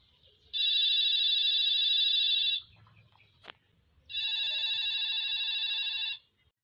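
A telephone rings twice, each long bright electronic trill separated by a pause with a single click between them, no voices.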